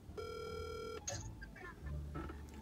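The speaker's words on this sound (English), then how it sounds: "Come on, pick up the phone, bro. Pick up the phone." A phone call being placed: a steady dial tone, then quick button beeps and a ringing tone, clear and close with faint background.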